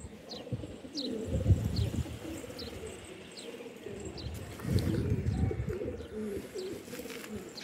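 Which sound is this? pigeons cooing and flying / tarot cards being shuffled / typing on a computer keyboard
pigeons cooing and flying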